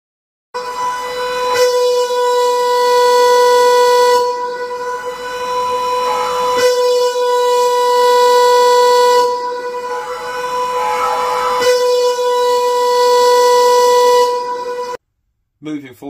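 A British air raid siren sounds a warning signal, its loud, steady wailing tone repeatedly cut and restored by dampers in a pulsing on-off pattern of several long blasts, then falling silent at the end.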